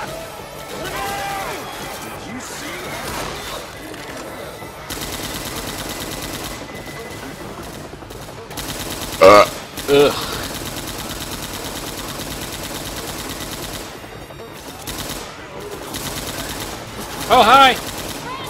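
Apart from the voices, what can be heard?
gunfire in the video game Left 4 Dead 2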